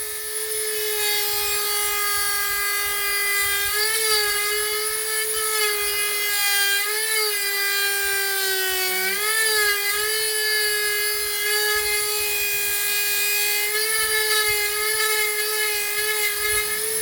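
A Dremel rotary tool at about 20,000 RPM drives a burr into manzanita wood, giving a steady, loud, high-pitched whine with slight pitch dips as the bit bites in, continuous and close throughout.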